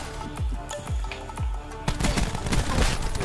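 Rapid gunfire bursts from an online multiplayer match of Call of Duty: Black Ops 4, loud and close, with sharp repeated shots that thicken into a dense volley near the end.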